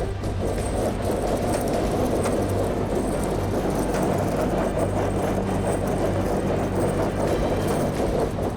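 The heavy engine of an old tow truck called the General drones low and steady under strain, a loud continuous rumble with rattling noise and no talking.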